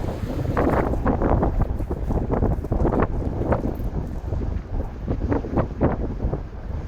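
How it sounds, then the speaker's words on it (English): Strong wind buffets the microphone in loud, uneven gusts, a constant roaring rush with no voices. "the wind's picked up a bit today"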